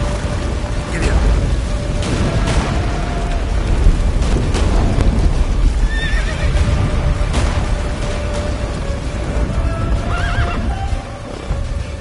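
A horse in The Witcher 3 neighs loudly while galloping hooves pound through a battle at Kaer Morhen, layered over heavy rumbling booms and music, with brief voices.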